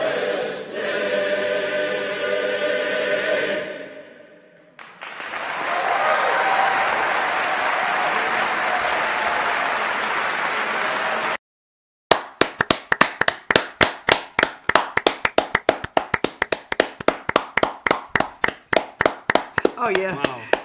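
Enthusiastic concert audience applause at a gala auditions final, a dense roar of many hands that fades out, returns full, then breaks into sharp, rhythmic clapping by a single nearby person.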